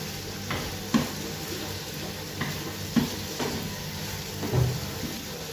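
Tomatoes fry for Tulunadu-style chicken sukka, a close, steady sizzle broken by a few soft scrapes and knocks of stirring at irregular intervals.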